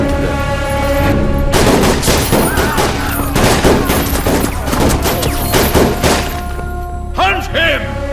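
Action-film gunfire breaks out after an order to shoot, with dense bursts of rapid shots and heavy thuds over a loud music score, while shouting voices come through near the end.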